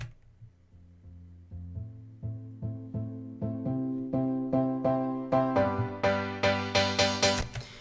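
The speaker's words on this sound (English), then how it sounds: "we have these pianos and this pad building up with a cutoff filter" Layered pianos and a sustained synth pad build up together, a cutoff filter gradually opening so the sound grows brighter and louder with steady rhythmic piano hits over nearly eight seconds, no voices.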